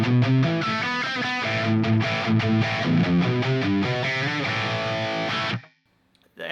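An electric guitar played in an 80s style through a distorted tone with no reverb or delay, chords and riffs sounding dry and upfront before cutting off abruptly into near silence at the end.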